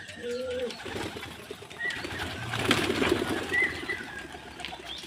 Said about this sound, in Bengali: পায়রাগুলোকে চলো চলো